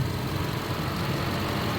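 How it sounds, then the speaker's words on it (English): A car engine with an upgraded turbocharger hums steadily close by, a dense, even rumble at constant level with no talk over it. "I'm trying to talk over this engine noise"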